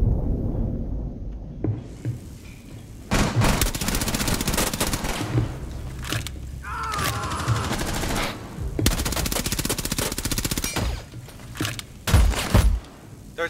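Gunfire in Rainbow Six Siege on the Presidential Plane map, long loud bursts of automatic fire with some separate single shots, close and sustained across most of the stretch.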